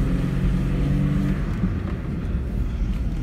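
A Ford Ka Plus pulls away after being shifted into drive, giving a low, steady engine hum and road rumble heard from inside the car, moderately loud and without much revving.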